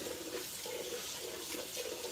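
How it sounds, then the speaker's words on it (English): A hot-water tap runs steadily in a home kitchen during cooking, giving a continuous, fairly loud hiss and splash with a slight pulsing and no talking over it. "Whew, this water is hot."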